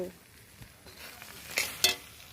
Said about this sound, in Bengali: দিয়ে আরও কিছুটা সময় নেড়ে চেড়ে নেব